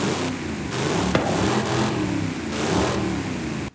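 A custom Hot Wheels Nash Metropolitan with a 1,300 hp build in Forza Horizon 5 sits in the garage, its engine droning and revving steadily in waves with a few sharp throttle blips, loud and close throughout.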